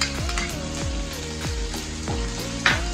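Green chilies and curry leaves crackle loudly in hot oil for dal, a dense close sizzle punctuated by regular metallic taps of a spoon against the pan.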